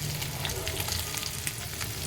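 Fish for a Kerala-style nadan fry bubbling in hot oil, a dense, continuous sizzle heard close and fairly loud with fine crackling throughout.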